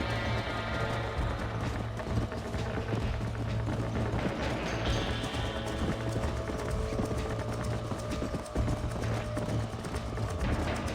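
Horse hooves clip-clop at a brisk, continuous pace in the video game Red Dead Redemption, with the rhythmic hoofbeats running steadily from start to finish among faint game ambience.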